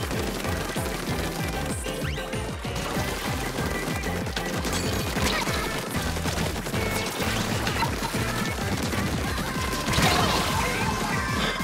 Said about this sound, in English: Whoa, missiles!